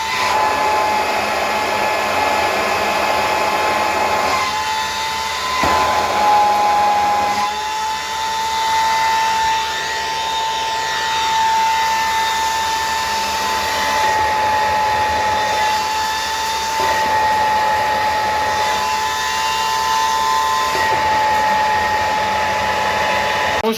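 A powerful exhaust fan in a small-scale layer poultry shed blows continuously and loudly, a dense rushing drone like a large hair dryer with slight surges in strength, and no talking over it.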